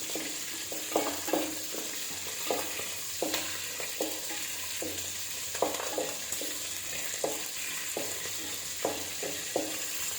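Onions and garlic sauté in a pan for a fish kulambu, a steady close sizzle of frying broken by regular scraping stir strokes, with no voices.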